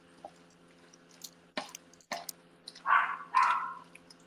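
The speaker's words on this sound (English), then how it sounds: "You can hear our little dog Zeus." A little dog gives a couple of short, muffled barks from somewhere away from the mic, following a few soft clicks and knocks in a home kitchen with a steady low hum in the background.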